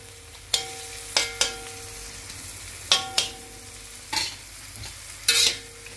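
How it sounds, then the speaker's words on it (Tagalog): Pancit noodles frying in a pan are stirred with several sharp scraping clacks of a utensil against the pan, spaced unevenly over a steady low sizzle, with no talking. "Tapos, halu-haluin."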